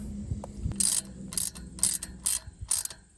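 Short ratcheting clicks while the front brake caliper of a BBR Stinger bicycle is tightened during assembly, coming in five or six quick, close bursts separated by brief pauses.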